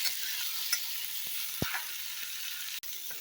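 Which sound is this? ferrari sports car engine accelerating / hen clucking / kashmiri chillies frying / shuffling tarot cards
kashmiri chillies frying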